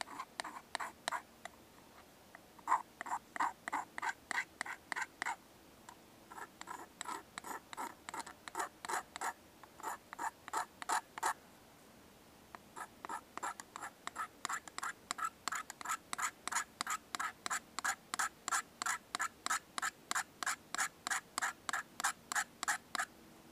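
Hand-carved wood shavings scraped off in long runs of quick, even rasping strokes, close and steady with short pauses between bursts.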